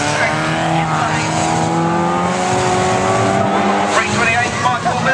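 A banger race car speeds around an oval raceway, its engine roaring with tire squeals and other cars passing at a raceway event, while a commentator talks over the noise.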